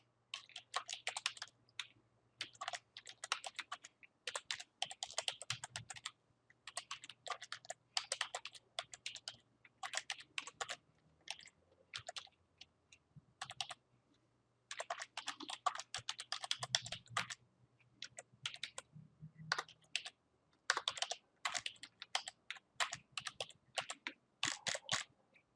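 A computer keyboard is typed on in quick, uneven bursts of soft, close clicks separated by short pauses, alone and quiet.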